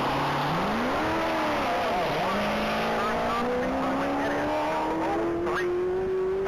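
A roughly 1,000 horsepower Corvette accelerates hard down the Texas Mile top-speed course, its engine note rising steadily through a gear change, loud and sustained under a commentator's voice.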